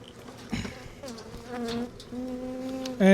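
Honeybees from a newly installed bee package buzz around a hive box, close and continuous, with wavering pitch and a louder surge at the end; no talk.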